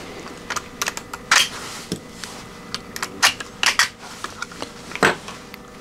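Two screws come out of a Prusa XL 3D printer's board cover, with scattered sharp clicks and small metallic ticks of the tool and screws, close and intermittent, several louder knocks among them.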